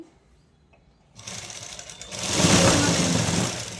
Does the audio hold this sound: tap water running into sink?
no